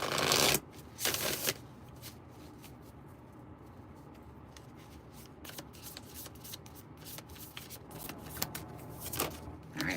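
A deck of tarot cards is shuffled in loud riffling bursts at the start, then quieter repeated card taps, slides and handling noises continue close by with no talking.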